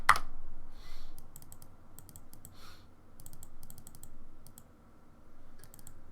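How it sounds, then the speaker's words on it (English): Fingers tap on a computer keyboard while text is entered for a string manipulation programming example, coming in quick clustered bursts of crisp clicks separated by short pauses, close and clear with no talking. "as you can see, when I'm typing stuff, it shows up."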